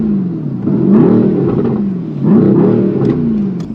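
A 2021 Mercedes-AMG GT R sits nearby and revs twice, each time a deep throttle blip that rises and falls back to a rumbling idle.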